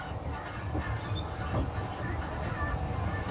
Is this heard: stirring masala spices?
no